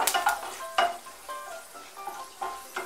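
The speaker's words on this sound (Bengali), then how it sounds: "শুকনো লঙ্কা আর মেথিগুলো একটু নাড়াচাড়া করে নেব।" Dry red chillies and fenugreek seeds frying in hot oil, stirred with a few scraping, clinking strokes over a soft, close sizzle, no voices present.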